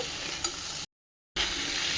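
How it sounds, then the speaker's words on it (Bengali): Vegetables such as stalks, potato, green banana, eggplant and ridge gourd frying in a little oil, a soft continuous sizzle with stirring scrapes, broken by a short gap of silence midway. "আমি একসাথে সব ভাজা করে নিচ্ছি হালকা অল্প তেল দিয়ে"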